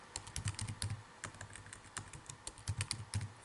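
Computer keyboard keys tapped in a quick, uneven run of light clicks, close and fairly quiet, while entering data in MATLAB.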